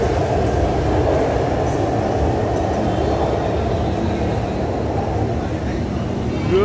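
An Orange Line metro train pulls out of the station with a loud, continuous low rumble and rolling drone that holds steady throughout, heard close from the platform.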